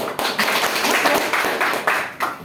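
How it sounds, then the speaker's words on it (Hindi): An audience at a talk gives a short round of clapping, a dense, close burst of many hands with uneven pulses. "चलिए आज के लिए ताली हो।"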